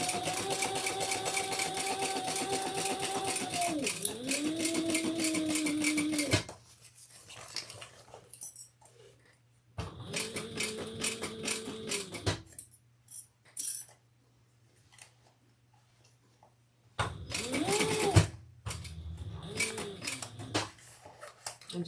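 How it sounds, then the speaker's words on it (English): A sewing machine stitches the sides of a leather bag in several bursts of rapid mechanical whirring, separated by pauses with faint handling sounds. "let's sew the sides on"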